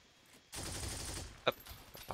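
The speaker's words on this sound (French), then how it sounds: "Il y a vraiment un mec qui me tire dessus." Bursts of enemy rifle fire in an online shooter game, a dense close volley lasting about a second followed by a single sharp crack, heard alone without talk.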